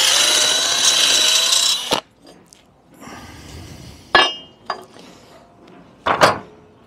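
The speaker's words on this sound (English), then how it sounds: "rub them down, get all the loose off." A power tool rubs down loose rust on tap brackets under a van, a loud continuous grinding for about two seconds that cuts off, followed by sharp metallic knocks and clinks.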